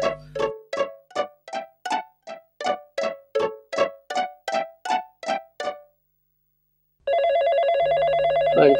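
A telephone rings in a rapid run of repeated bell bursts, loud and close, then falls silent before a sustained electronic ringtone tone begins.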